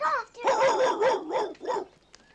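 A dog in a 1965 horror film, chasing after something outdoors, gives a run of four or five close yelping barks in quick rhythm, then goes quiet apart from a faint tap.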